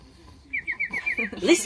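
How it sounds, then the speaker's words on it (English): A bird calls with a quick run of repeated chirping notes, close and fairly loud, rising into a brighter, busier burst of sound near the end. "Listen to the bird."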